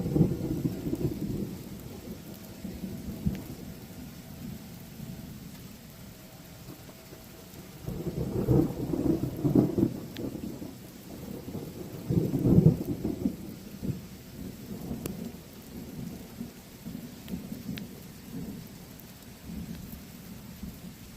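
A strong September thunderstorm over Cincinnati: steady rain hisses throughout while deep thunder rumbles swell loudly around the middle and then roll away, with no voices.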